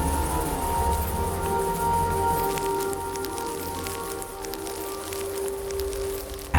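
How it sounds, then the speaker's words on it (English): Rain falling in the video game Oknytt, a steady soft patter of drops spread over a constant background layered with sustained tonal music, with no voices. "tiny drops of rain began to fall from the dark sky"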